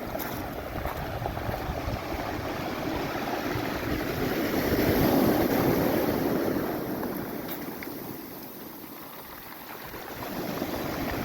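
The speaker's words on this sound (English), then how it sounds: "Oh, nice big waves coming in here." Large ocean waves break and wash in steadily at a Cornwall beach, a broad continuous roar of surf that swells to a peak midway and eases off, with some wind buffeting the microphone.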